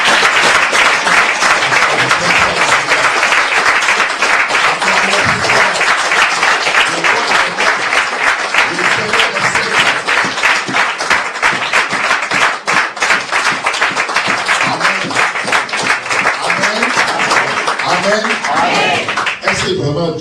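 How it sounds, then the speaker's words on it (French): A church congregation applauds loudly and continuously in fast, dense clapping that runs the whole length, with voices and cheering mixed into the crowd. "Acclamons plus fort."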